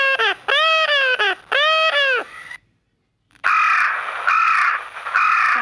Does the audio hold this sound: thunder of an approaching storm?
no